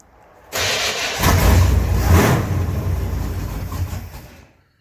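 A Camaro Z28 engine cold-starts after a brief quiet lead-in, cranking and catching into a loud, rough idle that holds steady and then fades out near the end.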